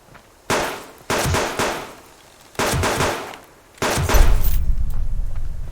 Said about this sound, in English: Oh, we're popping ammo casings.